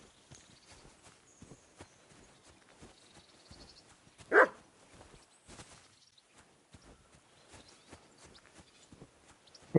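A single dog bark rings out at mid-distance in the medieval world of Kingdom Come Deliverance 2, standing out from quiet ambience and intermittent hoof clopping and footsteps.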